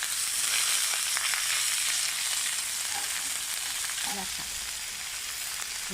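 Ivy gourd leaves fry in hot oil with a steady, broad sizzle that holds for the whole stretch, fairly loud and close, with a few faint clinks and stirring touches near the end.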